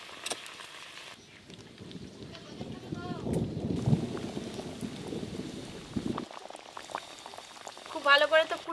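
Fish roe curry simmering in a pan, a steady, close bubbling boil crackling throughout, with brief clinks and a voice speaking near the end.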